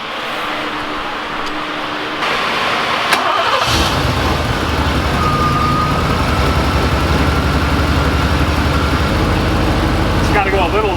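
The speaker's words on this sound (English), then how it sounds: "Now we're going to start and run it with the idle air control motor unplugged and set our idle to 450 RPM." A Chevrolet LB9/L98 Tuned Port Injection V8 starts and settles into a steady idle with its idle air control motor unplugged, running loud and close with a cooling fan whirring along.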